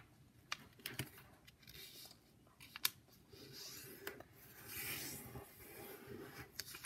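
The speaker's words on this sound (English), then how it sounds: "Now, what you do is you're going to fold it in half." A square sheet of paper is folded in half for origami, with close, quiet rustling, short sharp creases and clicks, and a longer rubbing swell as the fold is pressed flat.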